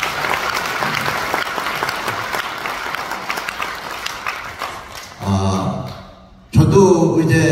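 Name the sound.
audience applause at a lecture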